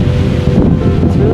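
Strong wind rumbles and gusts against the microphone up on the Sandia ski lift, a dense, continuous low roar filling the short moment with no clear talk.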